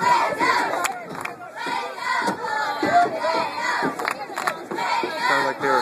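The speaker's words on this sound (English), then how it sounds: "Sounds like they were singing the fight song in Notre Dame." A large crowd at a college football game sings and shouts a fight song together. The mass of voices is loud and continuous, heard from within the stadium.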